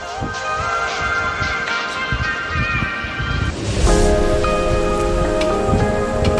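Chopped tomatoes fry in a karahi on high heat, a dense crackling sizzle close by that swells louder midway and keeps spitting steadily.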